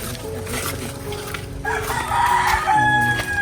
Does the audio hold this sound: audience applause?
no